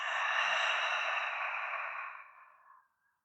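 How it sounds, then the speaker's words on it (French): A deep, breathy exhale through an open mouth during a yin yoga breathing exercise, a single long airy breath fading out over about three seconds, close and alone with no talking. "Ouvre la bouche, expire."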